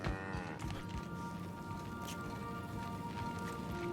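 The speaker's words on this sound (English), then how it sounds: "We got cows on our ship." Cows mooing aboard a spaceship in the video game The Outer Worlds, a low drawn-out moo with steady ambient hum and soft background noise.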